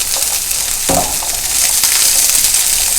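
Okra sizzles steadily in a pot for low-carb gumbo as its moisture cooks off, a close, continuous frying hiss with a brief stirring scrape near the start.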